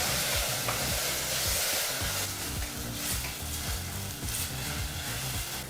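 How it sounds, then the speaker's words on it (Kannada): Chopped tomato fries in a pan over a medium flame, giving a loud, close, steady sizzle broken by repeated scraping strokes of a stirring spoon. No voices are heard. "ಈಗ ಟೊಮೊಟೊ ಹಣ್ಣನ್ನು ಸಹ 2 ನಿಮಿಷಗಳ ಕಾಲ ಮೀಡಿಯಂ ಫ್ಲೇಮ್ನಲ್ಲೇ ಫ್ರೈ ಮಾಡ್ಕೋಬೇಕು."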